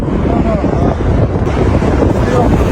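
Steady, blustery wind roaring across a microphone on a bridge, low rumbling buffeting with a faint watery wash beneath, continuous throughout.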